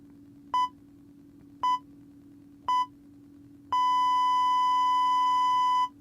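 Three short electronic beeps at even intervals, followed by one long sustained tone lasting about two seconds, clear against a low steady hum.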